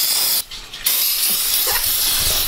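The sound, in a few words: spraying off excess fuel from Polini pit bike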